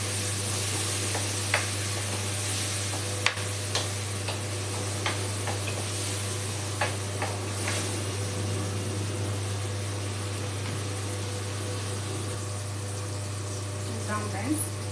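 Tomatoes fry in a pan with a steady, moderate sizzle, broken by a few sharp clicks and scrapes of stirring, over a low constant hum from a nearby appliance.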